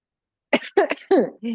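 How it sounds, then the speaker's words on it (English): A few short, rough coughs in quick succession, close by, ending in a brief throat-clearing sound. "That one always makes me cough a little bit."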